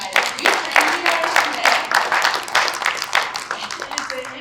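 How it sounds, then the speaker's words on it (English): A small audience claps in steady applause, close and fairly loud, fading toward the end. "let's give them a round of applause, you guys"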